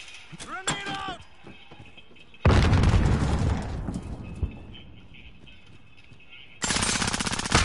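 Video game gunfire with loud bursts of rapid shots and booming impacts in two heavy stretches, under game sounds and a voice.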